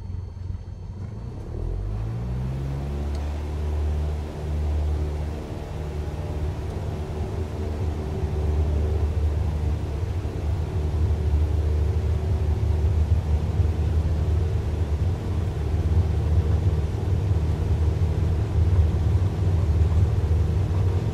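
A Cessna's engine spools up for takeoff at Takamatsu airport in a flight simulator, rising from idle into a steady, loud propeller drone and rumble that holds for about twenty seconds without any voices.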